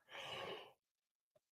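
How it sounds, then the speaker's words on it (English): A person lets out one long, breathy yawn close to the microphone, fading into silence, then a tiny click. "I haven't yawned at all tonight"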